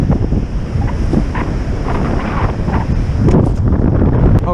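Strong wind gusting across an ocean beach, a loud, continuous rushing buffet on the microphone with surf rumbling underneath, steady throughout with no voices.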